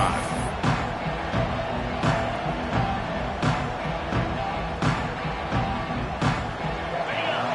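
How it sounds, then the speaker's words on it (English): A stadium crowd roars steadily at a Clemson versus Georgia Tech college football video game, with regular dull thumps under it and a commentator talking over the noise. "this crowd is fired up. Listen to this noise here."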